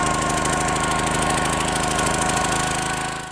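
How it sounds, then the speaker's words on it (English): A powered auger drills a post hole for a post and dowel fence, its small engine droning loud and steady close by, then easing slightly near the end. "Move your string and get drilling. Let's drill the next one."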